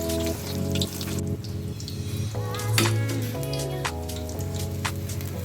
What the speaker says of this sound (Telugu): ఒక సైడ్ ఫ్రై అయ్యాక రెండో సైడ్ కూడా తిప్పుకుంటూ ఫ్రై చేసుకుందాం